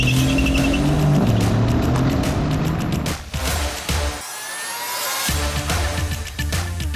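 A 2020 Mercedes-AMG C63 coupé under hard driving, its engine roaring loud and close with rising tones and a dip as the revs shift, then building again, with some tyre noise.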